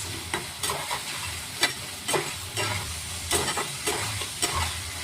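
Bitter gourd and potatoes are sautéed with turmeric and red chili, a spatula scraping and stirring through a continuous sizzle in rhythmic strokes at close range, with no voices.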